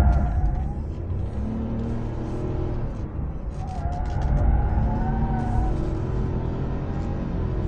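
A Honda City Hatchback Turbo RS drives hard on a test run, its engine giving a steady, moderately loud rumbling drone that swells slightly as it accelerates, heard from inside with no voices.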